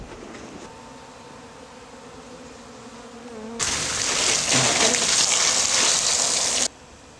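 Bees swarm around a wooden box, their buzzing swelling suddenly into a loud dense drone for several seconds before cutting off, with a fainter hum and background noise on either side.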